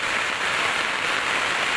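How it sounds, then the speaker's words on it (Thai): Heavy rain pours down during a flood, a dense, loud, unbroken roar of falling water with no pauses and no voices. "น้ำฝนตกลาย"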